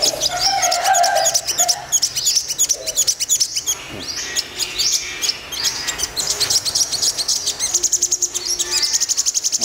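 Sunbirds chirp and tweet in a busy, continuous stream of high, rapid calls, with insect-like trills underneath and no talking.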